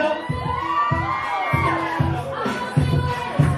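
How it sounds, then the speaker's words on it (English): Wedding guests cheer and whoop for the winner of a Mr & Mrs party game at a hotel reception, a lively crowd roar with shouts and bursts of applause running continuously, loud and close. "Big round of applause for our winner."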